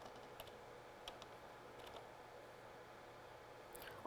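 Soft, close typing on a computer keyboard, with scattered key clicks at an uneven rhythm and a few brief louder taps, heard quietly with no speech.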